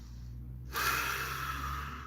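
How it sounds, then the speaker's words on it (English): Forceful breath pushed out through the nose during a yoga breathing exercise, a single loud, sustained exhale that starts abruptly and continues to the end, close to the microphone with no talking. "So it's like a power breath. You're tensing in as you breathe out."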